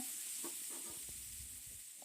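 Fish fries on a hot tawa with a soft, steady sizzle and hiss, marked by a few faint pops and crackles, quiet and close with no voices.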